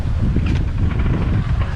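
Steady wind rushes over a sailboat at sea after a long stretch under engine, a dense, continuous low roar of gusts against the microphone with no voices.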